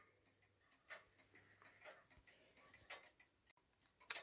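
A 1976 Russian Jantar wall clock ticks quietly in a still room, with soft regular ticks close to the mic and a sharp click near the end.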